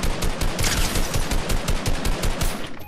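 Rapid automatic gunfire in a video game ranked match, a loud sustained burst of evenly spaced shots that cuts off near the end.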